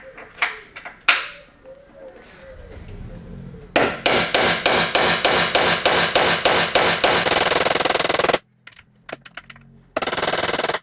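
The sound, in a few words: hammering a driver bit into a bolt on a BMW E46 fender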